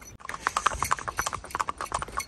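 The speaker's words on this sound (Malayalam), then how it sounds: "അങ്ങനെ കുതിര കുന്ന് കയറിക്കൊണ്ടിരിക്കുകയാണ്." Horse hooves clip-clop steadily on a hill path in Gulmarg, Kashmir, as the horse climbs, a quick, close, irregular stream of sharp knocks filling the whole stretch.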